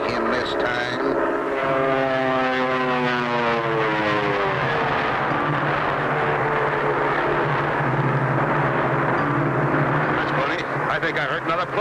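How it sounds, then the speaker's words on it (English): A propeller airplane engine drones loudly and steadily in a 1959 Clutch Cargo cartoon, its pitch shifting as the plane passes close overhead while a voice speaks over it. "I think I heard another plane."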